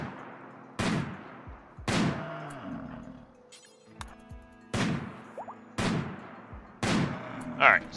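Gunshots in a video game, fired as spaced single reports about once a second, each a sharp crack with a short tail, alongside quieter clicks and faint game sounds between them.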